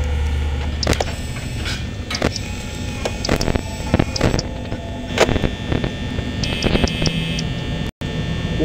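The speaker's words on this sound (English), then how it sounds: "Did someone hear that static?" Electronic static crackles in the Five Nights at Freddy's video game, with sharp broadband bursts scattered over a steady electrical hum and buzz, followed by a brief dropout.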